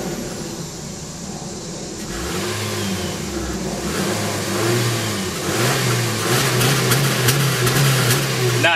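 A 2014 Honda Civic with its factory exhaust cranks to life and is revved several times, the engine note climbing and settling in loud repeated pulls close by.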